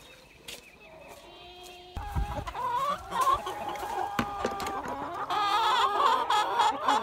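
Backyard chickens cluck and squawk at close range while being fed during morning chores, overlapping calls that grow busier and louder partway through.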